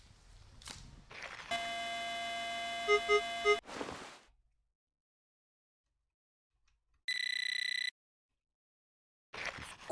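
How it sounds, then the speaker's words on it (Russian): A metal detector sounds a ferrous-metal signal while someone digs: a sustained buzzing electronic tone lasting about two seconds, then a shorter, higher steady tone after a silent pause, with soft rustling at the start and end. "Ну это черметный сигнал."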